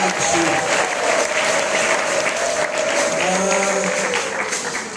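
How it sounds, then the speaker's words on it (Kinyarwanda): A church congregation at an ADEPR service bursts into loud, sustained applause, with a voice and sung tones carrying faintly underneath. "tukomere Imana amashyi menshi cyane"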